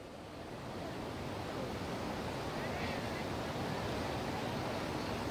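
Floodwater of the Godavari river surging around Ramkund in Nashik, a steady, loud broadband rush that swells slightly and holds constant throughout, with no voices over it.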